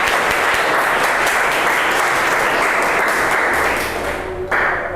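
A class of students applauds together in a classroom, loud sustained clapping from many hands that holds steady and then tapers off at the end, with little talk.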